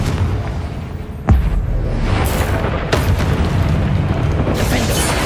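A Confringo spell blast in Hogwarts Legacy goes off as a sudden loud boom, followed by rumbling, crackling game effects and a second burst a moment later.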